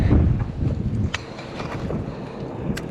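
Wind gusting over open water beside a bass fishing boat on a choppy, wavy lake, a steady loud rush with low buffeting bursts against the microphone and no talk.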